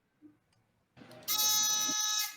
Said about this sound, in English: How exciting to have a new buzzer in the game.